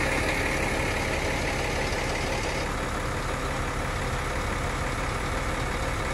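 The diesel engine of a cement pump truck idles on a playground casting job in Mysen, Norway, a loud, steady, unbroken rumble close by with no talk.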